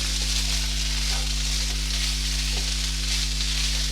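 Chicken pieces fry in a pan over low heat with a steady, close sizzle and crackle, with a few faint stirring scrapes and a constant low hum underneath.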